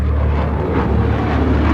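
A Russian combat jet in a public display over Moscow, a steady loud roaring engine drone that holds evenly throughout with no voices.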